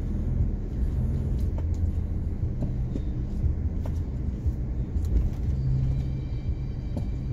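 A car drives along a road, heard from inside the cabin as a steady low rumble that continues for the whole stretch, with faint ticks and brief tones on top and no talk.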